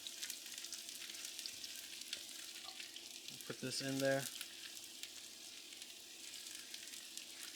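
Steady, close sizzle of onions frying in a hot pan, with a voice speaking briefly over it and a short clatter midway.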